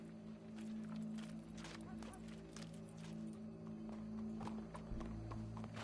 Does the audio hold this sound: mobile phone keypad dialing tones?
no